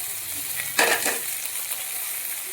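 Sweet corn goes into a hot pan for a palak paneer corn sandwich filling, with a steady soft sizzle and a brief louder hiss as the kernels hit the oil, no voices.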